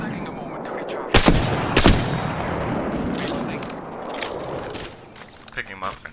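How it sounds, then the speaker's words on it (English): Gunfire in a shooter video game: two sharp, loud shots stand out early, then scattered fainter shots and game noise follow. "I am taking fire, friends"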